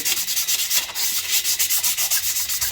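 Close, steady rubbing and sanding as rust and burrs are cleaned off the ball of a Nissan G60 Patrol swivel hub, a rhythmic scraping stroke repeating about every fifth of a second without pause.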